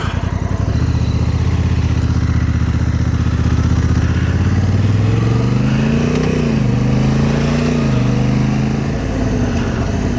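A 2025 Honda Africa Twin Adventure Sports ES DCT motorcycle with automatic transmission riding in urban mode, its engine droning steadily and loudly throughout, with the pitch rising and shifting as it accelerates and changes gear, plus wind rush.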